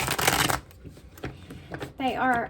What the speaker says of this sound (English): There's 120, so it's kind of difficult to shuffle.